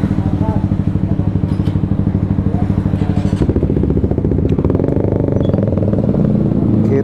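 A motorcycle engine that sometimes stalls chugs at close range and then pulls away in the dark, with a steady loud clatter and some rising revs as the rider sets off.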